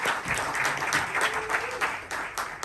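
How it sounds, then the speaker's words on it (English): Conference audience applauding, a short burst of many hands clapping at moderate distance in a large room. "let's give a huge round of applause"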